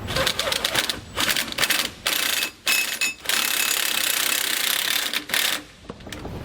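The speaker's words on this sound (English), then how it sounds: "We'll grab that same 1 1/8 socket. We'll start snugging up our hardware." A 1 1/8 socket on a ratchet snugs up bolts on a Roadmaster Reflex steering stabilizer under a 2018 Forest River Georgetown's axle, giving rapid close clicking bursts broken by brief pauses.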